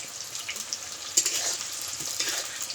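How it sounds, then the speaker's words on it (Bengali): Crushed cardamom pods and whole garlic cloves frying in oil in a pan for chicken biryani, giving a steady close sizzle and crackle with a few sharper pops, no talk. "এখন এগুলো আমি ব্রাউন কালার করে ভেজে নেব।"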